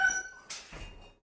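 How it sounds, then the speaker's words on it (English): Dogs barking inside a house, two or three short muffled barks and yips with a brief whine, then silence. "It's not time for barking."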